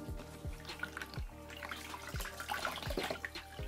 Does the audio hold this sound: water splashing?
yes